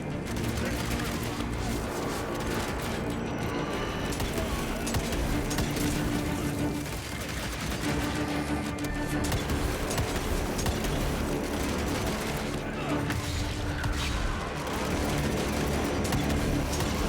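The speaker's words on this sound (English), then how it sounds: "The gunfire and action's muffled." Muffled gunfire and action from the shooter game Evil West, dense bursts of shots and impacts under a thick, continuous bed of game sound and music, with people talking over it.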